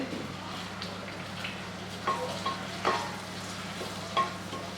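Whole cinnamon, bay leaf and cardamom sizzle softly in melted butter for paneer butter masala, a low steady fry with a few sharp clinks of a spoon stirring against the pan.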